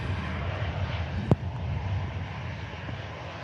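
A distant EasyJet airliner arriving from Prague at Manchester Airport makes a faint, continuous roar, with a single sharp click partway through.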